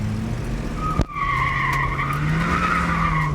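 A 1966 Ford Mustang with a 289ci V8 pushed hard through a turn, engine droning steadily with rising and falling pitch while tires squeal and skid loudly; a brief sharp thump interrupts near the start.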